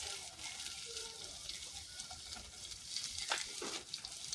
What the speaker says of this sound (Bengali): তেলটা গরম করে নিয়েছি ফ্রাই প্যানে। এখন আমি প্রথমে এখানে আদা কুচিয়ে দিয়ে দিচ্ছি।